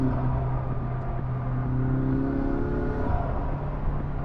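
A McLaren 600LT engine revs up close in a steady, loud drone with rising and falling tones, the pitch shifting mid-pull as it accelerates.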